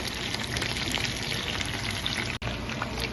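Chicken pieces fry in a pan until golden brown, giving a steady close crackling sizzle with a watery hiss and no voices, then one brief dropout near the end.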